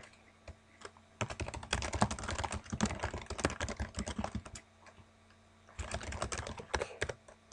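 Rapid keystrokes on a computer keyboard as a command is entered at the Windows command line, two dense bursts of close clicking separated by a short pause, with no talk.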